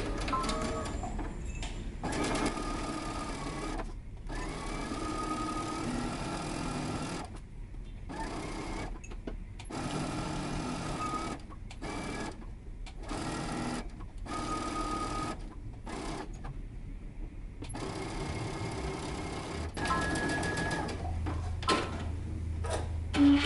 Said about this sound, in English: now we're going to stitch it down, and we're going to use 5/8 of an inch seam allowance